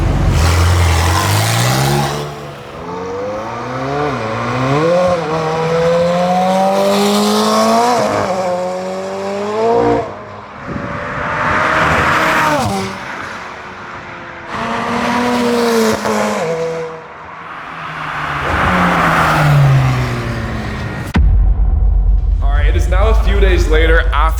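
A modified McLaren 720S sports car with a new exhaust revving and driving, engine pitch repeatedly climbing and dropping in loud bursts, with people talking over it and a brief lower rumble near the end.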